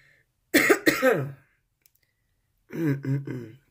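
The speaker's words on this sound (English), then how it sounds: "This damn cough is serious as hell." Two bursts of harsh coughing, a pair of quick coughs followed after a pause by a rapid triple cough, close and fairly loud.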